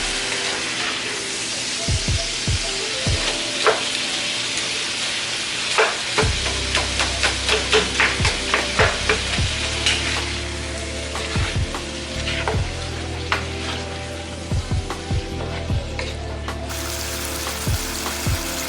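Onions, peppers and sausage fry in a very hot pan for fried cabbage, a steady close sizzle with clinks and scrapes of a utensil scattered throughout, with no talking.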